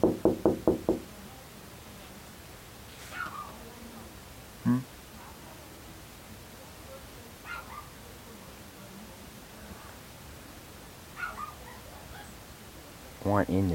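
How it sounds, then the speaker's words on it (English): Knuckles rap on a door in a quick burst of four knocks at the start, then several single taps spaced apart, with another short burst at the end, fairly close and crisp over quiet room tone. "She thought I was knocking on the door to tease Lily."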